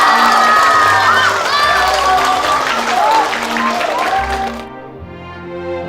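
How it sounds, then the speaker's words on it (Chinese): A crowd applauds and cheers at an official commendation ceremony, with clapping and lively shouts layered over the top. The noise fades off near the end, and a tonal music cue plays underneath. "大家鼓掌。"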